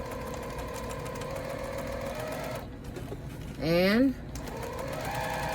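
A sewing machine stitches a pillow seam with a steady mechanical whir, under a voice talking nearby.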